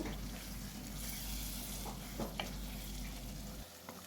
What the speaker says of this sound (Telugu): కర్రీ దగ్గర పడేంత వరకు దాన్ని ఉడికించుకోవాలి. మధ్యలో ఒకసారి తీసుకొని ఒకసారి మిక్స్ చేసుకోవాలి